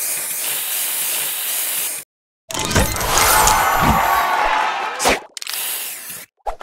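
A spray booster effect fires in the Match Masters mobile puzzle game, a loud hissing spray burst that comes in two sections split by a short silence and is followed by brief bright clicks and chimes.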